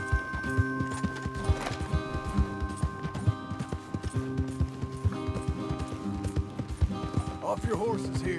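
Horse galloping in the video game Red Dead Redemption 2, rhythmic hoofbeats pounding steadily up close, with game music and voices over the top.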